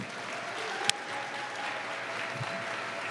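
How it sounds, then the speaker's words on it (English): An audience applauds a guest at a talk event: steady, faint, continuous clapping that fills the room for the whole stretch, with one sharp knock partway through. "Give him a round of applause."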